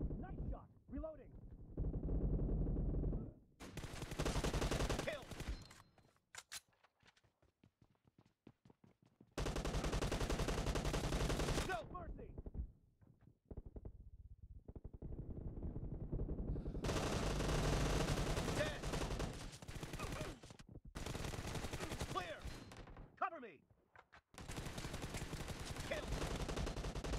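Bursts of automatic gunfire from the battle royale shooter PUBG Mobile, loud, dense volleys separated by short quiet gaps, with no talk over them.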